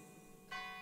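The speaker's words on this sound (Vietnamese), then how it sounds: "Bên phải, đó là tiếng chuông của nhà thờ San Sebastian." The bell of San Sebastian church rings once, faint and distant, its clear metallic tone swelling over a quiet, steady background and sustaining to the end.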